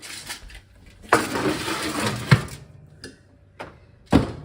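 Pumpkin halves placed face down on a metal cookie sheet tray and slid into a home oven, with scattered close clunks and metallic knocks, a rattling scrape of the tray and a few sharp thuds.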